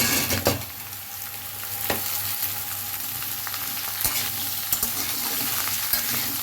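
Bottle gourd and potato pieces fry in a pan for a Bengali lau ghonto, with a steady close sizzle broken by several sharp scrapes and clacks of a spatula stirring them.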